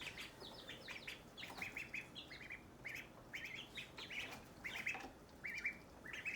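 Several ducks quack and chatter busily while being fed among chickens, a lively run of overlapping calls at moderate distance against a quiet outdoor background.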